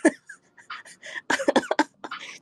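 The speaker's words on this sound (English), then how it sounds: "I get sick and cough." A woman coughs in a short burst of sharp, close, loud fits, ending with a rough, breathy tail.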